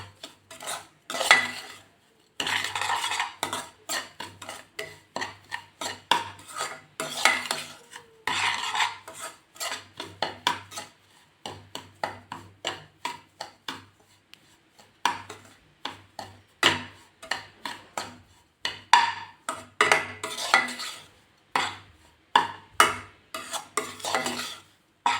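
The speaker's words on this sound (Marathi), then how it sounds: "पण थोडासा अजून खोबरं टाकलं आहे म्हणून मी अजून परतून घेते व्यवस्थित" Semolina and coconut sautéed in a pan for sheera, with a spoon scraping and clinking against the metal in steady repeated strokes, close and fairly loud, with no talking.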